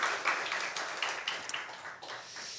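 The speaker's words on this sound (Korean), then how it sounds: "우리 하나님께 영광의 박수 올려드리겠습니다." Church congregation clapping together during a Sunday worship service, a fairly quiet, steady patter of many hands that continues with small bursts and dips, no voices standing out.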